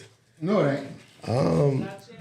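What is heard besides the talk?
dog whimpering and growling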